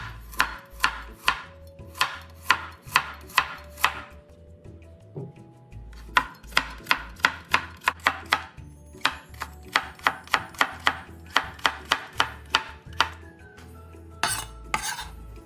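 A knife chops about 50 grams of carrot into shreds for onion fritter batter, striking the board in quick rhythmic bursts with short pauses between runs, crisp and close with no voices.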